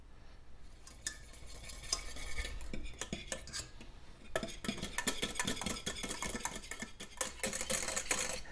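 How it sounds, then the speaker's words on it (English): A sugar-free dessert topping with vanilla extract being stirred in a pot off the heat, brisk clinking and scraping of a utensil against the metal, quieter at first and then faster and denser, close and with no talking. "take it off the heat, and then stir in the vanilla extract"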